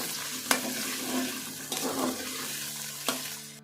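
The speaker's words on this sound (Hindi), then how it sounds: "तो अब चिकन को फ्राई करेंगे" About 400 grams of boneless chicken frying in a pan, a moderate sizzle with soft stirring and three sharp clanks of a utensil against the pan at intervals.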